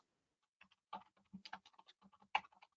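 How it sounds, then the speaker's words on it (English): Quiet, close typing on a computer keyboard, irregular bursts of key clicks with short pauses, no speech over it. "forgive me if you can hear me typing"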